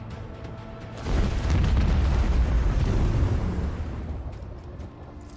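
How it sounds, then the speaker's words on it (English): Macro cannons firing in the Warhammer 40000: Rogue Trader video game, a loud sustained rumbling barrage of booms that swells after a second and slowly fades. "I want to hear the macro cannons roar."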